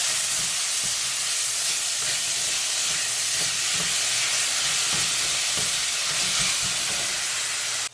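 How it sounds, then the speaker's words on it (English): Vegetables sautéing in a hot pan for a Jamaican saltfish cook-up, a steady close hiss and sizzle with light stirring clicks throughout, ending abruptly, no talk. "So what I'm going to do now is just slowly go ahead and add these veggies. You can just add everything and just saute it up."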